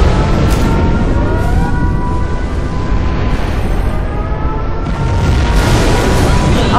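A nuclear missile strike explodes in Command and Conquer Zero Hour, a loud, sustained rumbling blast that keeps roaring for several seconds, with rising tonal effects layered on top.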